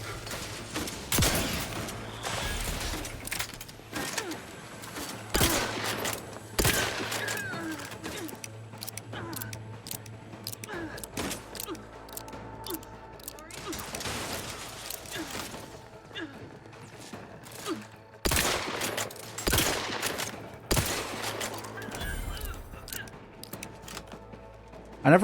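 Shotgun fire in The Outer Worlds, a run of sharp loud blasts at irregular intervals, some in quick pairs, over low droning game ambience and occasional mechanical clicks.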